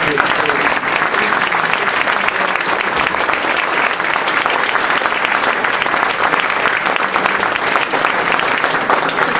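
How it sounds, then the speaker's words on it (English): Loud, dense applause from the audience at a school board candidate forum, a sustained roar of many hands clapping at close range for several seconds with no break. "Let's give a round of applause for our 5 teachers"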